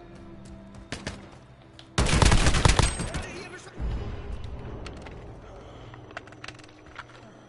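Gunfire from a weapon in Call of Duty: Modern Warfare's Gunfight mode: a loud, dense burst of rapid shots lasting about two seconds, followed by echoing rumble and a few scattered quieter pops.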